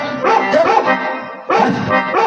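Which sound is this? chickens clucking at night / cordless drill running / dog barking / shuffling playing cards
dog barking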